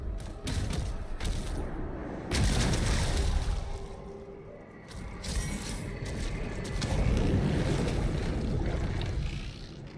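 Water in the Doom video game, a churning, rushing wash with creaking mechanical texture and surges of noise, steady and fairly loud throughout.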